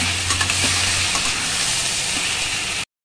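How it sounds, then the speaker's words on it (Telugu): Boiled ivy gourd (dondakaya) frying in a pan with salt and turmeric: a loud, steady, close-up sizzle with light stirring clinks, holding constant until it cuts off abruptly. "ఇప్పుడు ఉప్పు, పసుపు వేసి ఉడకబెట్టుకున్న దొండకాయలను వేసేసి ఇందులో ఫ్రై చేసుకుంటున్నాను"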